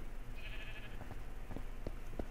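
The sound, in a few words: sheep bleating in the video game Minecraft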